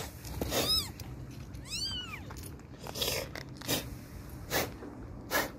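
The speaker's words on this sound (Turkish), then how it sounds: "Biraz miyavlasana." Tiny kittens just rescued from the rubble of a collapsed building meow in high, thin cries, several short calls close by, with snuffling and handling noise between them.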